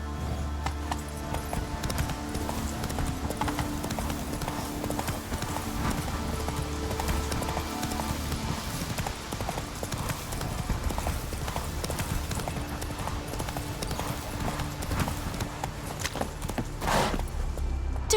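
Roach the horse gallops in The Witcher 3, hooves pounding in a fast, steady, close rhythm for the whole stretch, with a brief voice near the end.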